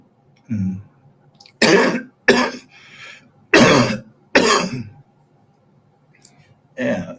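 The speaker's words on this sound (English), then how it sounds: "I'm coughing because I'm smoking weed" Coughing fits from a man smoking weed: four loud, close, harsh bursts in two pairs, each about half a second, with a softer throat sound before them and another cough starting at the end, then quiet between.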